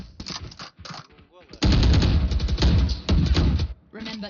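Rapid bursts of automatic gunfire from a shooter video game, loud and close, firing in clustered volleys with brief gaps between them, while a voice talks over part of the action.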